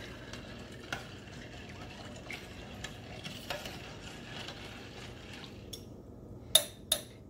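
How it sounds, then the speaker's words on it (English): White chocolate and butterscotch chips stirred in a pot: quiet scraping and faint clinks through a low, steady background, then two sharper metallic knocks near the end. "we're gonna give that a stir"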